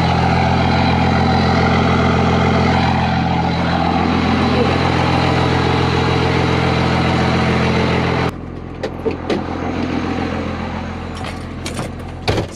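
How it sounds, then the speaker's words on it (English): Pickup truck with a straight-pipe exhaust and axle dump, heard as a loud, deep idling rumble that drops off abruptly partway through, leaving quieter clicks and mechanical handling noises. "So it's just literally a straight pipe with a axle dump."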